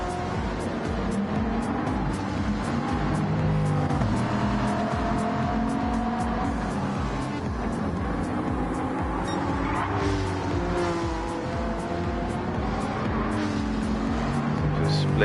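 Video game race cars, a Veyron and a Lamborghini among them, roar steadily in a dense pack with whining engines and occasional tire squeals, loud and continuous throughout.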